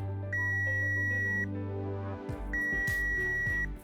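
A multimeter continuity beep while testing the neutral pin to the neutral connector of a faulty iron's plug, two steady tones of about a second each with a short gap, loud and close.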